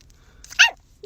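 A dog gives two short, breathy bursts, a muffled whisper-like bark at close range with a pause between them, in an otherwise quiet room.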